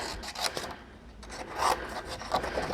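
Cardstock paper being trimmed for a handmade card, giving a continuous raspy rubbing and scraping of a trimmer blade across the sheet, fairly close and steady with small surges.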